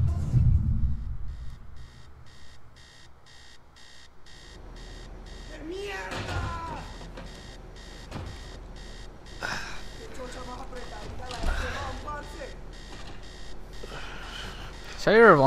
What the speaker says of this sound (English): Set your alarm clock off.